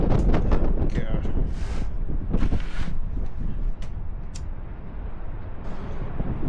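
Strong wind buffeting a small aluminium tinny fishing boat, a loud continuous rushing roar with gusty bursts close to the microphone, and brief voice sounds in places.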